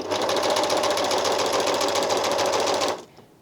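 An Elna Elina 792D serger runs at steady high speed, a loud continuous rapid mechanical whir and clatter that stops abruptly near the end.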